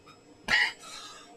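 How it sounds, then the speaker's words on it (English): A man coughs once, a single sharp, close burst followed by a softer breathy tail. "Yeah, that one dislodged something, and then I had to cough again"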